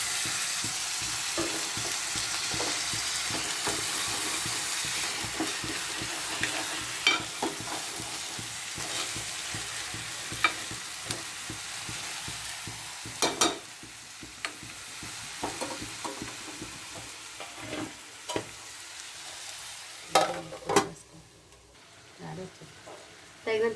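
Crabs frying in a pan with ginger garlic paste, a steady broad sizzle close up with frequent stirring scrapes and clatters that grow sparser toward the end.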